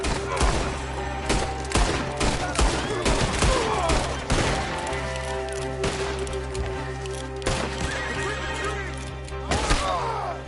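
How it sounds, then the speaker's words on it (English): Horses whinny and neigh in the Red Dead Redemption 2 game amid bursts of gunfire and hoof clatter. The calls rise loud and near several times over a busy, chaotic mix. "There are the horses!"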